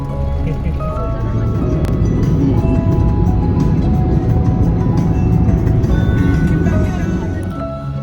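Stop-and-go traffic jam on the Amritsar to Delhi road: a continuous, loud rumble of idling and crawling vehicles close by, with a few faint horn-like tones above it.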